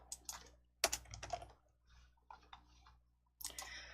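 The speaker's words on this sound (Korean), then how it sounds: "컨트롤 F10 눌러주실게요" Computer keyboard keys pressed during a Korean word-processor lesson, with a shortcut combination typed in quick clusters of crisp clicks, several bursts separated by short pauses, close and fairly quiet.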